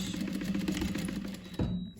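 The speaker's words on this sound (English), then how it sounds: "Don't forget to backstitch." A sewing machine runs a steady, continuous stitching buzz while backstitching a 1/4-inch seam on a fabric laptop sleeve, close and alone until it stops near the end.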